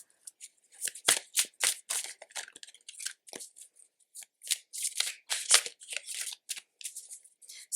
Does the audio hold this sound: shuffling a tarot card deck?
yes